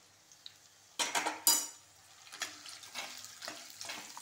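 Onion, garlic and dried vathal fry for vathal kulambu, with sharp clanks of a utensil against the pan followed by soft, intermittent sizzling and stirring.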